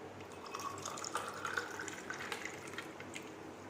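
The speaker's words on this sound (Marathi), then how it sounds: "सरबत ते सरबत आपण याच्यामध्ये घालून घेणार आहोत" Pineapple sherbet made from pineapple crush is poured into a glass, a soft trickling liquid stream with light splashes and drips, faint and close, continuing evenly with no voices.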